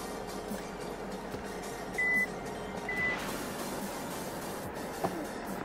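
An MG Gloster 4x4 SUV gives two short reversing beeps about a second apart during off-road driving in Lucknow, faint against a constant engine and road rumble, with no voices.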